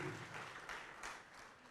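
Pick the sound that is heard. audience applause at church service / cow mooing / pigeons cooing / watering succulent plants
audience applause at church service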